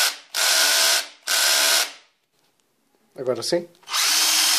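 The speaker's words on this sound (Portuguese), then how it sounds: "Agora retiramos os parafusos que seguram a bobina." A power drill or screwdriver backs out the screws holding a car engine's ignition coil during a valve cover gasket change, loud whirring bursts close by separated by pauses, and someone speaks briefly between them.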